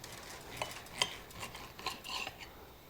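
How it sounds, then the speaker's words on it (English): Knife cutting through a reverse-seared Brazilian picanha roast, a few soft, brief scraping and tapping sounds of blade against meat and board, close and quiet with gaps between strokes. "Going to just slice into the middle."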